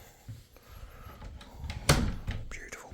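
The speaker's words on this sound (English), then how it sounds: "Oh, shut that door." A door is shut indoors with a single solid thud near the middle, surrounded by faint shuffling and handling noise in a quiet room.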